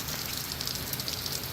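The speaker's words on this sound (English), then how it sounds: "now you can see the rain" Heavy rain pours down during Hurricane Milton as a steady, dense, broadband hiss that holds evenly throughout with no voices.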